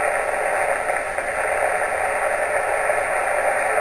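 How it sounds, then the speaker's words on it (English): Steady hissing interference noise (QRM) on a ham radio receiver returns when the phase of an interference eliminator is changed, a constant broadband static rush with no pauses and no voices. "If I alter the phase, you can see the noise comes back."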